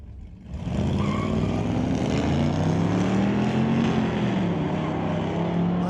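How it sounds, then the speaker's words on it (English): A Corvette at a street-legal drag strip launches with its rear tires spinning, and the engine roars loudly as its pitch climbs and shifts, steady and close for several seconds with no speech. "A lot of spin on the back tires of that Corvette"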